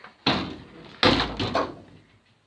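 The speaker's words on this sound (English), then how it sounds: "Let's close the door up." A door on an old Land Rover Series 1, recently returned to the road after a barn find, shuts with two solid metallic thuds, the second louder with a short rattle trailing off.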